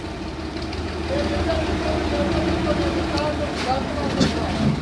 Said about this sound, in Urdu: motor cycle